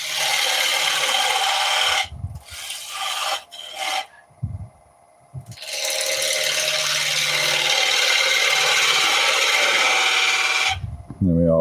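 A hand saw rasps through solid timber in long, even strokes, close and loud, with a couple of brief pauses early on before a sustained stretch of steady cutting.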